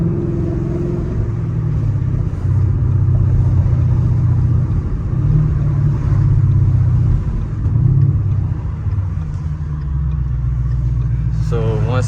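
A Ford Mustang GT's engine rumbles steadily at low speed as the car pulls into a gas station, a continuous close, loud drone with mild surges and no talking over it.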